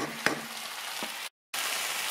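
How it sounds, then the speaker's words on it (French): Chicken pieces frying over raised heat for a curry, a steady soft sizzle with a couple of utensil taps against the pan and a brief gap of silence. "il y a le poulet qui continue à cuire. Je viens d'augmenter le feu"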